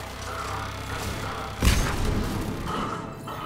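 A grenade blast in the Mass Effect 3 video game, one sudden loud boom with a low thump partway through, set among ongoing combat noise with voices in the background.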